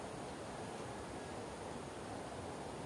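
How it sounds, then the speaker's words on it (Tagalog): Rushing floodwater flowing past a neighbourhood of houses, a steady, unbroken, fairly faint broadband roar with no talking heard. "maingay na ang tubig"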